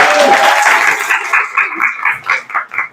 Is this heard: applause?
yes